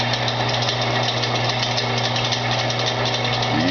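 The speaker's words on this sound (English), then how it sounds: "Let's click on the lathe." Metal lathe running steadily while cutting a squish band into a Yamaha cylinder head, a loud, constant motor hum and drone with a faint, continuous machining texture and no speech.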